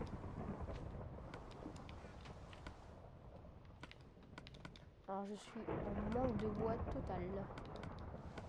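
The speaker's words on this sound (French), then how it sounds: "Désolé pour le bruit derrière, si l'orage est un peu fort. C'est pas que c'est dehors, c'est que c'est dans le jeu." A Minecraft game thunderstorm rumbles as a steady low roar beneath someone speaking French, with scattered clicks of keyboard typing throughout.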